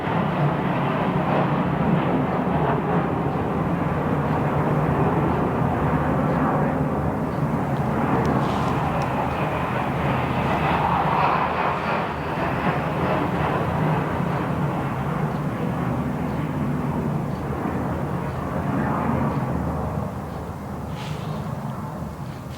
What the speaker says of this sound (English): I hear a fighter jet flying